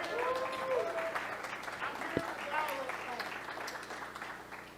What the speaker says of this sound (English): Man, clap for this dude.